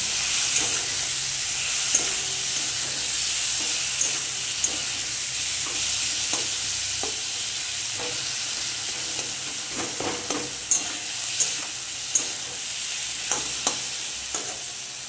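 Ginger and garlic frying in a pan while a fish curry with potato and tomato is being cooked, a steady close sizzle with scattered stirring clicks and scrapes, louder toward the end.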